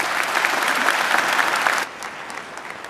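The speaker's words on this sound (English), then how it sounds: "She deserves another great round of applause." A university graduation audience gives a PhD graduate a round of applause: thick, continuous clapping from a large hall that holds steady, then drops abruptly to a quieter scattered tail.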